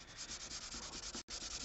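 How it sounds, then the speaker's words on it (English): Sandpaper rubs back and forth on a Yamaha acoustic guitar neck during repair, a steady rhythmic scratchy hiss with one brief pause near the end, close and alone. "Busting out the sanding"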